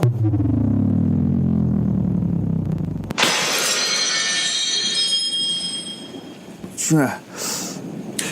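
A glass of water shatters loudly on a hard surface, a sudden sharp crash followed by a ringing, scattering tail of glass pieces, with loud speech or a voice before and after it.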